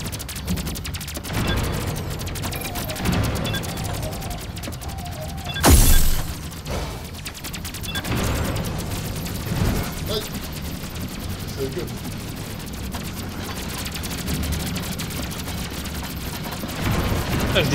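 Gunfire in the video game Robocraft aimed at a flying enemy, dense rattling shots and crackling impacts running throughout, loud and close, with players talking over the action.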